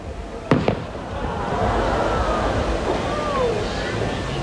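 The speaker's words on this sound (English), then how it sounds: "I think I'll just stop talking and let you see the fireworks live" Fireworks at a live Fourth of July show in San Jose: a couple of sharp bangs early on, then a broad, steady crowd-like rumble and distant crackle fill the rest.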